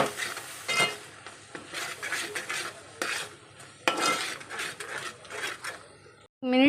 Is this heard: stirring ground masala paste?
yes